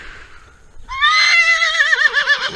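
A horse gives a loud, close whinny that rises, then shakes and wavers downward for over a second. Quieter background sound comes before it.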